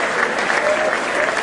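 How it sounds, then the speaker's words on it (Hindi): Dense, continuous applause from an audience at a comedy poetry show, many hands clapping evenly and fairly loud throughout. "जिनके हाथ हो ताली बजा दो"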